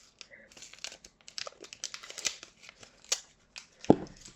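Paper instruction guide for an Epson SureColor F100 sublimation printer being handled and unfolded, close crinkles and rustles in uneven bursts with a sharper crunch near the end.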